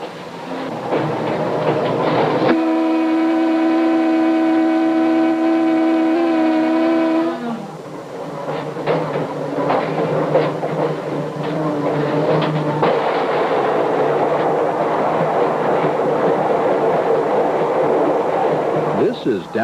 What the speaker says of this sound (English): An electroliner stops and loads passengers for Milwaukee and other major towns